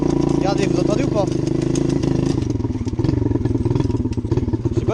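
A small motorcycle engine runs with a rhythmic idle, and a crackling noise from a likely worn sprocket clatters through it. A voice talks over the steady engine drone.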